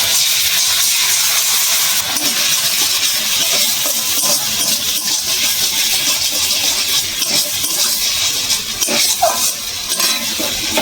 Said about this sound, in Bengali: এই দেখুন সসটা ফুটছে।